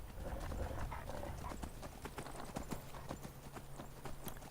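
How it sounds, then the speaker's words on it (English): Horse hooves gallop in a fantasy video game while wolves give chase, a steady rapid clip-clop rhythm of many close hoofbeats running through the whole stretch over a low ambient rumble. "Good thing I've got a horse."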